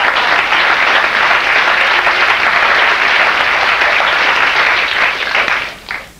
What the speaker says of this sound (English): You're just applauding Jesus.